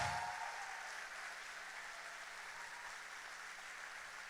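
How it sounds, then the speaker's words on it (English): Applause from a school staff audience at a district kickoff event, a steady broadband wash of clapping holding at an even level for several seconds after a loud opening. "Give him a round of applause."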